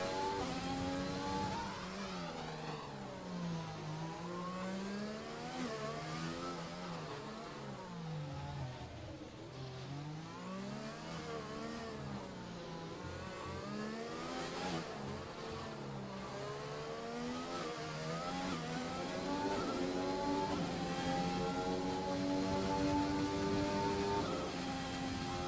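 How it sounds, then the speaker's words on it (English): A Racing Point Formula car in an Xbox One racing game laps the streets of the Monaco Grand Prix, its high engine whine rising and falling steadily through gear changes and corners, continuous and fairly loud with no talk. "Just sit back, listen to the Racing Point travel its way around the streets of Monaco."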